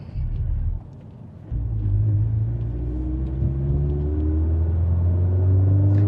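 A Toyota 86 drives through city streets, its engine a steady low rumble with gentle rising and falling tones as it accelerates through small curves, heard from inside the car with no speech.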